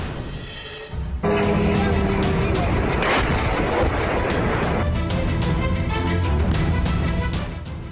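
Explosions from a drone attack on high-rise buildings in Kazan, a sudden heavy boom followed by sustained rumbling and repeated sharp blasts, loud and chaotic in an urban setting with distant voices mixed in.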